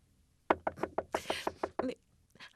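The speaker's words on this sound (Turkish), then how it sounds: "kapı çalıyor." A series of about eight firm knocks on a door in an uneven rhythm, fairly close, with a couple of softer raps after a short pause.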